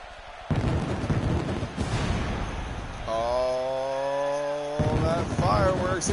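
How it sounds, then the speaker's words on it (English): Pyrotechnic fireworks go off for a wrestler's entrance at a UWA wrestling show, a loud crackling roar with booming bursts, followed by a sustained sirening tone and renewed bangs, with an announcer talking over it. "that fireworks, and here comes the assassin, Casey Marr."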